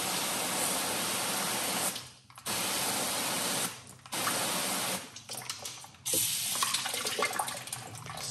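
A hose nozzle on its mist setting sprays fine water onto a car's coated paint, a close, steady hiss broken by several short pauses where the spray stops and restarts, with no voices.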